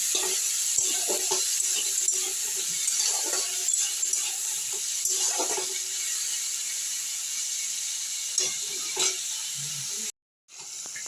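Capsicum and tomato frying in a wok give a steady, fairly soft sizzle with scattered clicks and scrapes of stirring, then the sound drops out briefly near the end.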